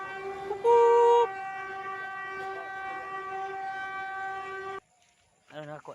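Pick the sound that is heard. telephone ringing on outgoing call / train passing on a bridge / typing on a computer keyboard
train passing on a bridge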